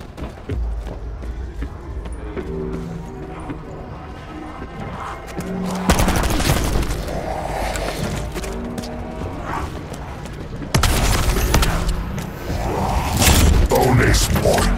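Gunfire in the video game Call of Duty: Black Ops 4, with bursts of shots and booms among mechanical clatter, under game music and talk.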